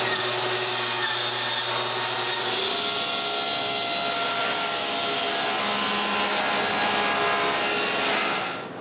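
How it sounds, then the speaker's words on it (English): A power saw rips through a plywood panel for a closed bookcase with a loud, steady whine. The blade cuts continuously for several seconds before the sound cuts off at the end. "Then cutting the first panel is a charm."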